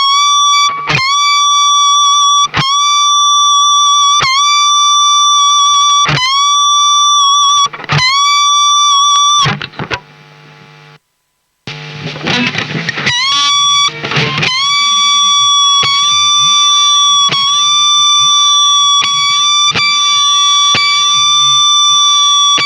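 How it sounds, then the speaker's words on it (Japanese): Electric guitar notes played through digital distortion without oversampling, with aliasing noise as a whine behind the tone; repeated sustained picked notes, a brief noisy gap, then a denser run of notes, loud and alone. "デジタルの歪みではギターの音の裏の方でヒューみたいな"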